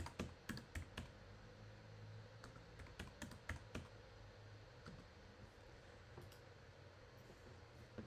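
Typing text on a computer keyboard in a design program, a quiet, close series of irregular key clicks and taps over a low background hum.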